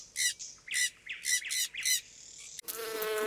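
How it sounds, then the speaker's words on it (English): Parrot squawking in five loud, harsh calls in quick succession, followed by a steady high insect-like buzz, with no talking. "Parrot."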